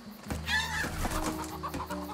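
Chickens cluck in the Louisiana Voodoo level of the video game Desperados 3. The clucking is mid-distance and sits over a steady tonal ambient bed for about two seconds.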